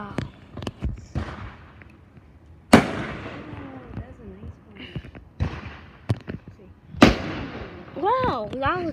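Fireworks booming in sharp separate blasts a few seconds apart, some with crackling tails, while people talk and exclaim between the bursts.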